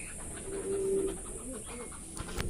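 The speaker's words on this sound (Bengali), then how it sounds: "এই যে মেল কোয়েলটা ডাকছে। মেলটা কিরকম ডাকছে দেখ।" A male quail calling, a short sequence of soft nearby hooting notes, the first held a little longer, followed by quieter chirps and light rustling in the background.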